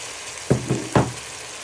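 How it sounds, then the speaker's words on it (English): Mushrooms tossed into a hot pan already holding chicken, onion and garlic land with three quick, close thuds over a faint background hiss of frying. "Now you want to add in your mushrooms to your pan."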